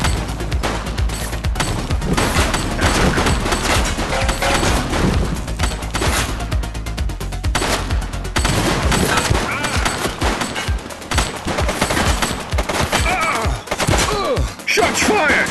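Continuous heavy gunfire from a suspect during a police shootout in The Precincts video game, loud dense bursts of automatic shots and thuds throughout, with voices talking over the firing.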